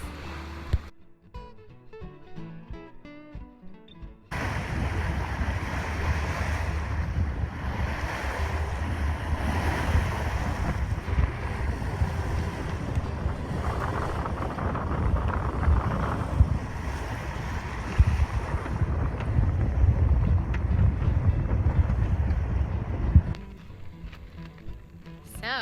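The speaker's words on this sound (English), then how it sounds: "we're motor sailing right now. We've got the mainsail up, motor on, and cruising at about 6 knots." Sailboat motor sailing near the Bahamas with mainsail up and engine on at about 6 knots, a constant loud rush of water and wind along the hull with a low drone beneath, no talking.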